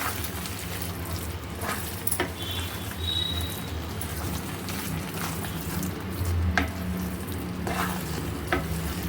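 Carrot halwa being stirred in a pan, a steady close scrape and soft sizzle running throughout with occasional louder clicks of the spoon, no talking.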